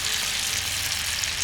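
Cauliflower 65 pieces sizzling as they deep-fry in hot oil, a dense, steady, bright crackle that stays loud and even throughout with no voices.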